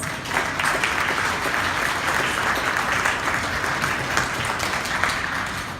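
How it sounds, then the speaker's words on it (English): Steady audience applause at a community project launch, a dense even wash of many hands clapping at moderate distance, sustained throughout without pause. "Give yourselves a round of applause."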